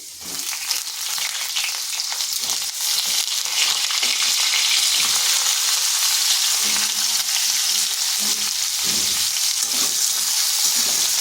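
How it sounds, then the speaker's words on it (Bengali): Ridge gourd pieces frying in a pan with fried potatoes, a loud continuous hiss of sizzling oil running throughout, with scraping and rustling from steady stirring, close up and without talk. "ঝিঙ্গাগুলোকে একটু ভেজে নিচ্ছি, মানে সামান্য একটু নেড়ে নেব যাতে কাঁচা গন্ধ যেটা সেটা চলে যায়"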